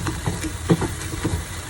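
Food sautéing in a pan for a low-carb keto dosa, with soft irregular stirring taps and a light patter of sizzling over a low, busy background; no voices.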